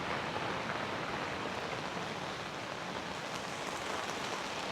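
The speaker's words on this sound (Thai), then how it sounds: "ฝนตก" Steady rain falls in a dense, even hiss with no pauses, close and constant, without voices.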